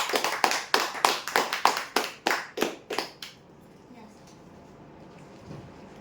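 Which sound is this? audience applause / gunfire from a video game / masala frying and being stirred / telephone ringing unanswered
audience applause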